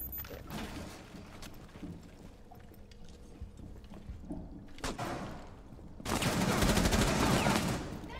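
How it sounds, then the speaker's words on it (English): Gunfire in the video game Rainbow Six Siege: scattered shots and mechanical clatter, then a loud burst of rapid automatic fire near the end. "Being shot at."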